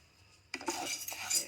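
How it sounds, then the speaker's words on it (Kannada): A spoon scrapes and clinks in a pan while chana dal and urad dal roast in a little oil. A brief quiet moment comes first, then a short burst of close stirring noise. "ಮಿಕ್ಸ್ ಮಾಡ್ಕೊಂಡು ಹುರ್ಕೊಳ್ಳೋಣ."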